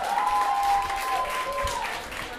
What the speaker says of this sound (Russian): И там тоже половина армян аплодирует